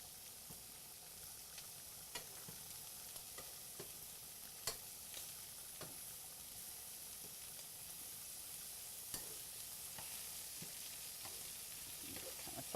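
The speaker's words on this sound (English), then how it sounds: "we're going to give our shrimp a little turn" Shrimp and zucchini frying in a pan give a steady, moderately loud sizzle throughout, with scattered clicks and scrapes as the shrimp are stirred and turned.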